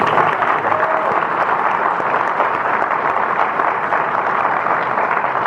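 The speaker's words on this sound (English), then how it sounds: "That applause is for the management of Weigel Broadcasting." Sustained audience applause from a television studio crowd honoring station management, steady dense clapping that holds at an even level throughout with no talk over it.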